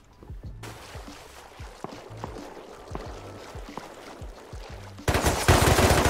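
Thompson submachine gun fire in the survival video game Rust, heard as a steady rhythm of muffled, distant-sounding shots, then a much louder, close burst of fire near the end.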